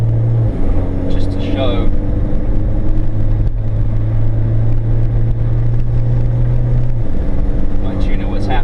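A Mitsubishi Evo X MR pulls hard under turbo boost, its engine a steady, loud low drone with someone talking over it throughout.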